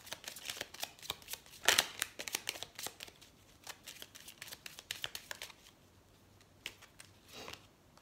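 Tarot cards are shuffled in a rapid run of crisp, close riffles and snaps, thinning out into a few softer slides and taps as a card is drawn.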